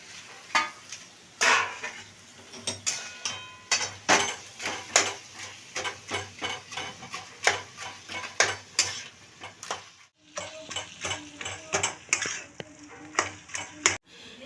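Taro leaves are stirred in a pan, a run of sharp scraping and clattering strokes in a steady rhythm, close and fairly loud, with a brief pause near the middle before the stirring resumes.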